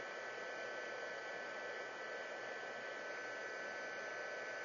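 A heat tool blows steadily on Glimmer Mist ink on a 12 x 12 scrapbook page, giving a constant, even, fairly quiet whooshing hum with no breaks.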